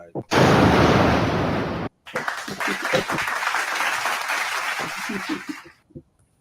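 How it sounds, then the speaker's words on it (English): Loud, dense applause from an audience for guests bursts out and cuts off abruptly, then gives way to looser, more scattered clapping mixed with crowd voices and chatter before fading to quiet. "So round of applause for you guys, man."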